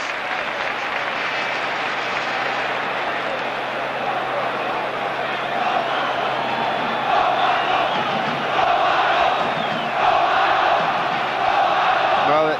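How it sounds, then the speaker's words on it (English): A vast stadium crowd at a 1986-87 Serie A match between Napoli and Inter roars and chants a player's name, swelling louder in rhythmic waves toward the end. "to have your name chanted, as Romano was then, in this vast bowl of a stadium"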